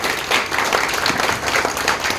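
Audience applause welcoming the chief guest at a Cricket Academy training session program, a dense, steady roar of many hands clapping together throughout, loud and continuous with no voices rising above it.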